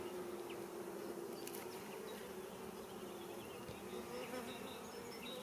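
Honeybees in a spring apiary hive, a dense, continuous buzzing drone that stays steady and fairly close, with no talk.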